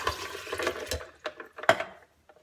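Water, about one and a half cups, pours into a blender already holding ice cubes for a vanilla shake, giving a short close splashing gurgle that tapers off into silence, with no talking.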